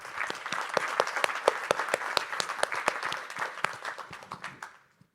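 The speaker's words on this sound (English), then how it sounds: "So round of applause for them" An audience at a RISC-V conference panel applauding steadily, dense overlapping claps for several seconds before tapering off at the end.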